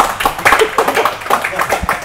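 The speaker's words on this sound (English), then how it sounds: "Well, give him a round of applause, bro." A few people clap in a loose, uneven round of applause, close and fairly sparse, with voices and chatter mixed in.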